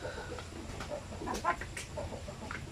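Basilan and Zampen native chickens cluck softly in scattered short calls over faint farmyard background noise, with no voices.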